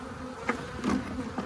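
Agitated honey bees boil out of a weak winter hive being condensed to a single box, a dense steady buzz close by with a few louder swells, no talk.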